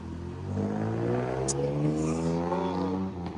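A Ducati motorcycle engine revs steadily up in pitch, its harmonics climbing over about three seconds, loud and close with no voices.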